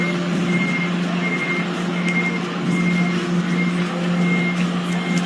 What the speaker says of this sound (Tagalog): Ito po yung spare truck po natin.